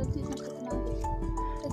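Cold natural spring water pours into a mug in a Spiti Valley village, giving a close, quiet run of trickling and dripping liquid with no voices.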